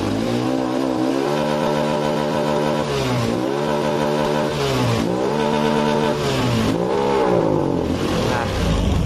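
Honda Beat scooter engine revved at half throttle, a steady whining engine note that rises and dips in several repeated swells, loud and close, running continuously without talk.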